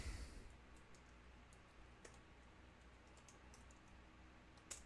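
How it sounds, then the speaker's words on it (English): Soft keyboard typing, a few scattered key clicks against a quiet background, with one sharper tap near the start and another at the end. "Let's try typing that again."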